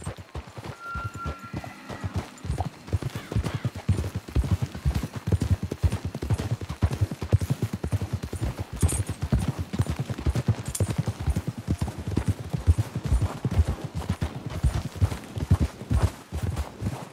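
Rapid hoofbeats of horses galloping in Red Dead Redemption 2, a steady, dense clatter running throughout, fairly close and loud.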